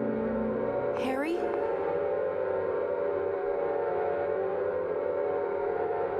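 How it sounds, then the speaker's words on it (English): A long, droning siren from the Silent Hill video game wails continuously and loudly throughout, with a sweeping rising tone near the start, and no voices. "Sirens."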